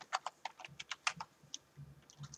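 Code typed on a computer keyboard for Fuze 4 on Nintendo Switch: a quick, uneven run of about a dozen close, crisp key clicks, alone and fairly quiet.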